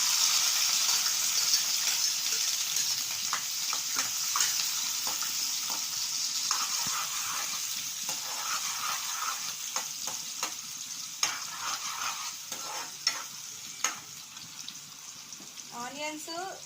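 Onions and green chilies sizzle and fry steadily in a pan for an aloo masala potato curry, with a continuous hiss and occasional stirring scrapes and clinks.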